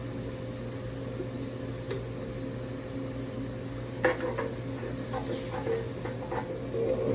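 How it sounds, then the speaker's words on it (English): Quiet, steady sizzling of liquid aminos in a pan with a low hum beneath, and a few soft clinks and stirring scrapes toward the end. "Letting that start to sizzle."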